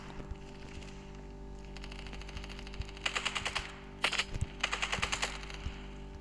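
Rapid bursts of automatic gunfire in the video game Standoff, several quick rattling volleys with short pauses between, over a steady low electronic hum.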